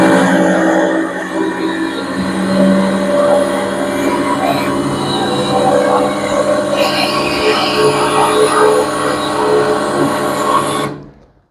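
A sailplane's 68 horsepower non-turbocharged engine runs loud and steady at close range, a harsh droning roar holding for about eleven seconds before cutting off abruptly.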